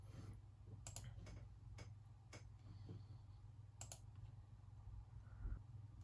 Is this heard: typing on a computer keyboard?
yes